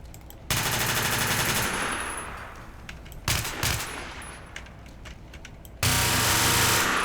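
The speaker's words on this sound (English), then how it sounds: "Oh, this looks like a machine gun." A machine gun fires in the destruction video game Teardown in long, loud, rapid bursts, a sustained rattling stream of shots broken by short pauses with some clattering debris between volleys.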